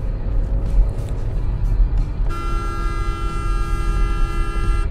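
An MG Hector SUV accelerates hard from standstill, a steady engine and road rumble from inside the cabin, joined midway by a sustained high tonal whine that holds to the end.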